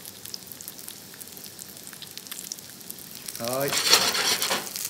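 Breadcrumb-coated sardines fry in a pan over medium heat with a soft, steady sizzle, which swells into louder crackling near the end as a voice speaks briefly.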